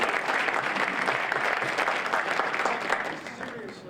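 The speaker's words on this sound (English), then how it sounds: "Let's give David another round of applause." Audience applauding after a presentation, a steady dense wash of clapping that holds for several seconds before easing slightly near the end.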